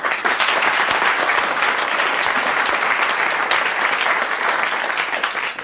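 A studio audience at a 1992 French television game show applauds a winning contestant, with dense, loud, steady clapping that fills the whole stretch without a break.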